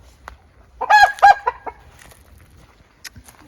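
Rooster crowing in a ranch coop alongside four hens, a loud, close cock-a-doodle-doo in the first half followed by a few soft clucks and quiet yard noise.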